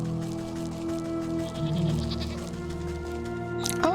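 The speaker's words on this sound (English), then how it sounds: "Oh, look. Sheep." Sheep bleat in the video game Wytchwood, a few drawn-out wavering calls over a layered music bed with steady tones, ending in a brighter sharp sound effect.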